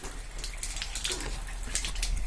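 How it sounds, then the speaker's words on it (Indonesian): Water running steadily from a tap fed by a water heater, a soft continuous hiss and splash heard alone at moderate level. "Itu harusnya untuk keran dinyalakan seperti ini ya."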